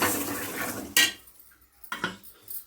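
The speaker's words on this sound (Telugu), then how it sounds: "దాన్ని కొంచెం కలిపేసి గరిటతో" A metal ladle scrapes and clanks against a pot as sambar with tamarind pulp is stirred, a busy opening followed by two sharp clinks, no talking.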